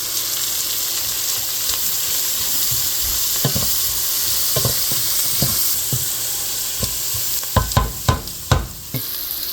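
Garlic sizzling in a pot for seafood chowder, a constant hissing fry with occasional stirring clanks that turn into several sharp, louder knocks of the spoon toward the end, close and without voices.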